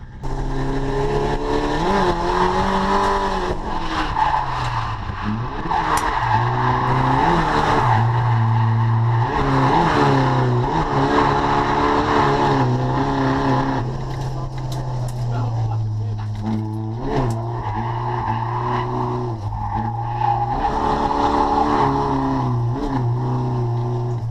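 A race car on a track day revs hard and slides through a Scandinavian flick, with a loud, steady engine drone rising and falling and brief tire squeal over it, and no one speaking.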